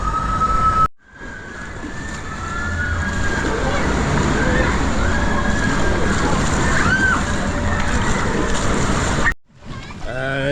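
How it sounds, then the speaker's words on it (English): A waterpark wave machine churns water in a loud, continuous rushing slosh close by, with squeals and voices of people mixed in throughout. "Wave machine round the corner."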